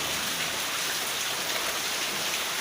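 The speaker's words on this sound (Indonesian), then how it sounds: "ini di Jogja lagi hujan dari semalam sampai hari pagi ini hujan" Steady rain falls in Jogja, a dense, even hiss of drops hitting surfaces with no pauses or voices.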